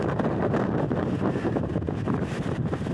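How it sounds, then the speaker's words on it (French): Strong, steady wind roars and buffets the microphone without a break on a high mountain bike trail at Boca do Risco, a continuous rough rumble with no voices. "C'est tellement de vent."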